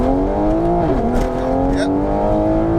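A 760bhp Mk5 Toyota Supra accelerates hard through second gear. The engine note is loud and close and climbs steadily with a brief dip at the shift.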